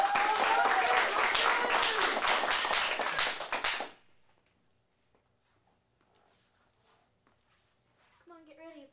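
Audience applause for a scene at a teen showcase: loud, dense clapping for about four seconds that cuts off abruptly into near silence, with a voice beginning faintly at the end.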